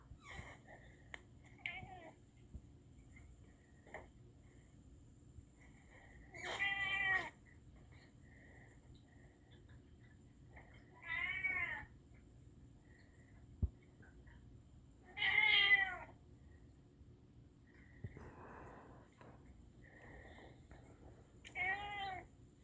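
A cat meows four separate times, spaced several seconds apart, fairly close, with quiet stretches between the calls.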